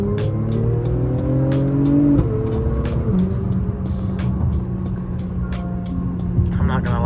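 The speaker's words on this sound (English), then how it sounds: "This car sounds so good. It literally pops between every single shift" Engine of an Acura TLX Type S revving up through the gears from inside the car, rising tones that drop at each shift, with sharp pops and crackles between shifts and a voice speaking over it.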